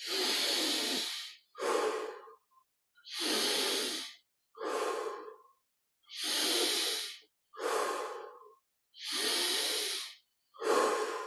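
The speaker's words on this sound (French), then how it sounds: "Prenons plaisir à sentir la fraîcheur de chaque inspiration." Slow, deep breaths during a guided meditation, long airy inhales alternating with exhales in a steady rhythm, close and alone against silence.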